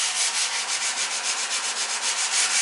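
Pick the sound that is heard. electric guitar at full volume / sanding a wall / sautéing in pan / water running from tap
sanding a wall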